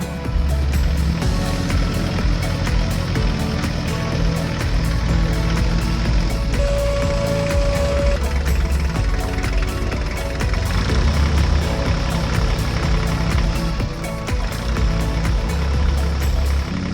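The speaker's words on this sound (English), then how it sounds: "The fire truck, equipped with a winch and a special loader, went into action." A fire truck fitted with a winch and a special loader clears fallen trees from a road. Its heavy engine drones loudly and steadily throughout, with one short beep in the middle and no clear talk.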